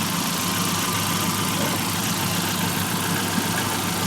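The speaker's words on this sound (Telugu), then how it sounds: "ఇంజన్ బీటింగ్ అబ్జర్వ్ చేసినట్టయితే మంచి స్మూత్గా నీట్గా ఉంది" A 2014 Hyundai Santro GLS idles at close range, a steady, even engine hum with a low rhythmic beat running unbroken and loud throughout, with no voices.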